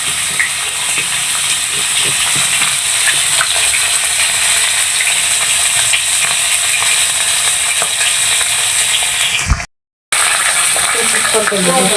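Bori, lentil dumplings, frying in hot oil for a tilapia curry, a loud steady sizzle and hiss running nearly throughout, broken by one sudden second of silence near the end before the frying resumes.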